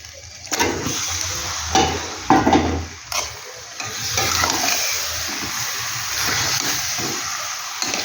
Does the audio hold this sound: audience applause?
no